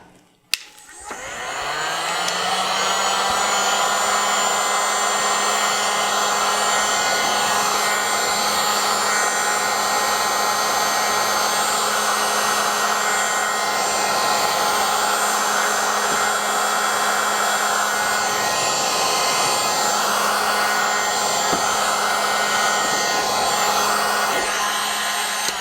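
A heat gun blows continuously on thermoplastic beads held in a tape container for costume making, a loud, close, steady whirring hiss that starts with a click and runs unbroken.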